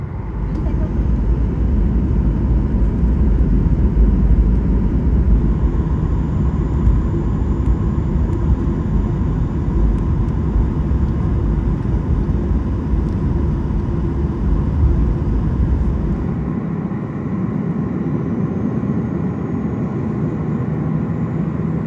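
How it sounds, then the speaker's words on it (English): A passenger airliner takes off from runway 26 right at Vancouver's YVR airport, heard from inside the cabin as a steady, loud engine roar with deep rumble that drops slightly in the later part of the run. "here's our departure from YVR off of runway 26 right"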